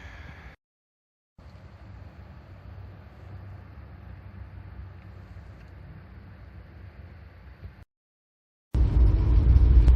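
A 1967 Rover 2000 Automatic P6 driving, a steady low engine and road rumble with some wind, cut by brief gaps, then a louder, closer burst of engine noise at the end.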